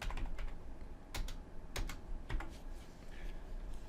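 A trading password is typed on a computer keyboard, with quiet, irregular key clicks in short bursts close to the microphone and no voices.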